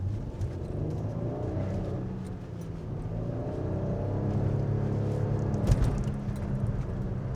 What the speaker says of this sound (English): I'm gonna show you just what it feels like flooring it.